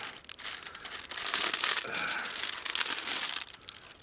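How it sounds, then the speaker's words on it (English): Plastic wrapping is pulled off a prepped vegan meal, making close, quiet crinkling and crumpling that rustles in bursts for a few seconds with no voices over it. "Pull this plastic off"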